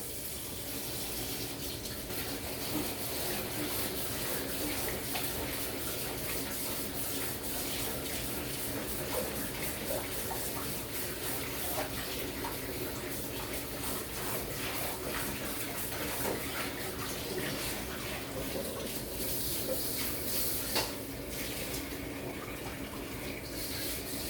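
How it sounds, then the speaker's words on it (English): Tap water runs steadily into a wok for a quick rinse after the oil is emptied, a constant close splashing gush with no speech throughout. "We're going to just do a quick rinse here."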